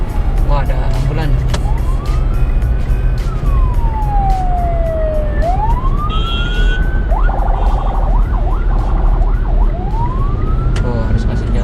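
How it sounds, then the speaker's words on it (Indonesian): An ambulance siren wails on a four-lane toll road, its rising and falling sweeps loud and close over steady road and engine rumble inside a moving car, with people talking. "Wah, ada ambulan."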